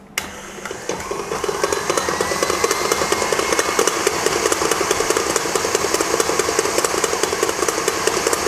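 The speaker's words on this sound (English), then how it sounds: "I'm going to beat this again for about 1 more minute." Electric mixer whirring steadily as it beats an egg and sugar batter for savoiardi biscuits, a continuous loud motor drone that runs throughout after a brief start-up.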